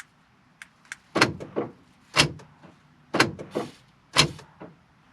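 Several sharp mechanical thuds and clicks spaced about a second apart, consistent with a car's driver's side door opening and shutting, sound close and fairly loud in a quiet setting.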